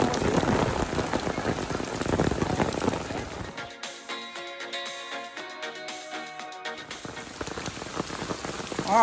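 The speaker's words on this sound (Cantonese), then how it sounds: "哇，好大雨啊！" Heavy rain pours down on a hiking trail at a mountain pass, a loud dense roar of drops on surfaces that shifts into sharper pattering on a nearby cover midway through.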